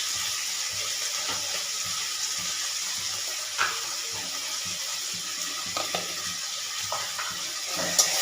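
Spice paste of garlic and turmeric fries in a pan while being stirred, a soft continuous sizzle broken by light scraping and occasional clicks of the spoon, no voices.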